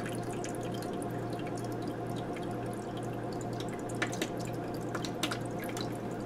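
Water trickles and drips steadily into a countertop ice maker as it fills, over a constant low mechanical hum, with a few brighter splashes.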